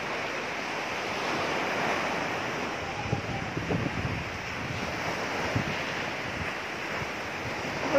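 Strong ocean waves crash and wash continuously at a beach, a loud broadband surf roar mixed with wind buffeting the microphone throughout.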